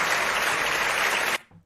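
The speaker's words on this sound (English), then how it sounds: "Big round of applause to him." A crowd gives a loud, dense round of applause, sustained evenly before cutting off abruptly near the end.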